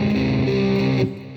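Heavily overdriven electric guitar, its distortion pushed too far, rings out as one thick, buzzing sustained chord, loud and noisy throughout before easing off at the end.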